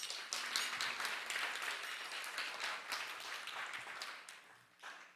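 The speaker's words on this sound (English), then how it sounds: "please give him a big round of applause" A gathering at the ISKCON Dallas temple gives a round of applause: faint, steady clapping from many hands that holds for about five seconds, then tails off with a small final burst.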